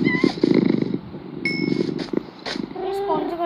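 Two cats in a video game purr with a steady, close rumbling purr and a few higher chirps, while a voice talks over the sound.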